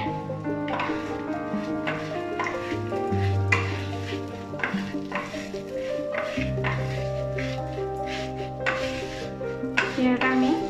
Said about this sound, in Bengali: চিড়েটা আমি ভেজে নেব হালকা করে। চিড়েটা আমি কন্টিনিউ নাড়তে থাকবো যাতে ঘিয়ের সাথে এটা ভালোভাবে মিক্স হয়ে যায়।